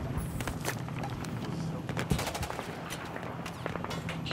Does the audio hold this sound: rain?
no